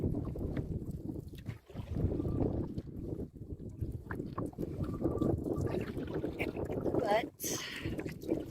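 Steady headwind buffeting the microphone while paddling a canoe on a sunny fall day, a loud, gusty low rumble with occasional paddle splashes, a person talking over it throughout.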